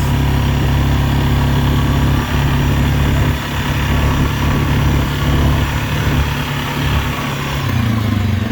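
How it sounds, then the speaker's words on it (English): A 2022 Suzuki King Quad 750 ATV cruises across a field at about quarter throttle, its engine droning loud and close with steady low rumble and no talking throughout. "Let's just do a quick cruise across the field with about a quarter throttle"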